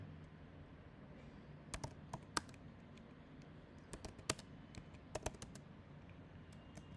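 A computer keyboard is typed on in scattered bursts of sharp clicks, a few quick keystrokes at a time with short pauses, close and clear over a quiet background hum.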